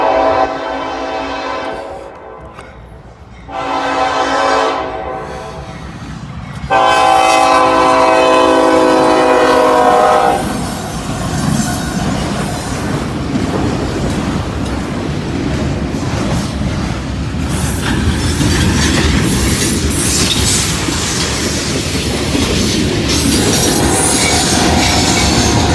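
Southbound train near Walton sounds long, loud horn blasts up close, then gives way to a heavy, steady rumble and rattle of wheels as the cars roll past.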